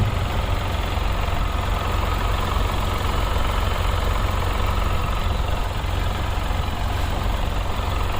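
A Tata Punch's 1.2-litre three-cylinder petrol engine idles in a steady, unbroken low hum with a faint higher whine, constant in level and heard without talking.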